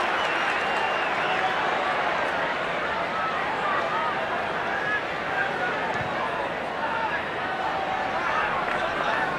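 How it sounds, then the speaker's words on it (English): Stadium crowd at a 1998 rugby league finals match between Parramatta and North Sydney, a steady loud roar and broad babble of thousands of spectators sustained throughout with no pauses. "So the roar from the crowd tells the story."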